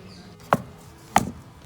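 Two sharp, separate thumps about half a second apart, made by pounding jaggery while preparing ragi chimili laddu, each a short knock with quiet in between.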